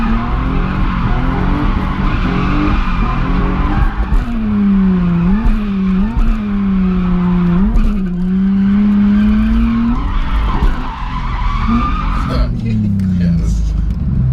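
An unprepped drift car sliding with tires squealing in long wavering screeches over a steady, loud engine roar; voices talk over it throughout.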